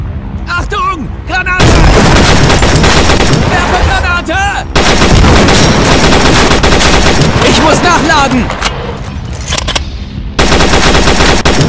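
Gunfire in the mobile shooter World War Heroes: loud, dense bursts of automatic machine-gun fire mixed with single shots and booms, nearly continuous with brief gaps, with faint voices underneath.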